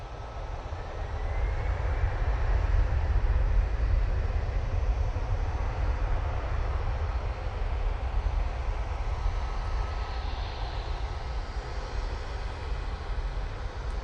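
An Airbus A320ceo rumbles at Manchester Airport, a broad, steady jet roar that holds at moderate distance throughout, with no talking over it.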